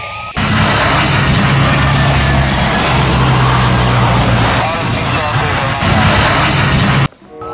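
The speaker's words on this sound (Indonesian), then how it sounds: "Ini adalah pesawat penumpang." A passenger airplane passing close overhead, a loud continuous broadband roar with a low engine drone that holds steady for about seven seconds and then cuts off abruptly.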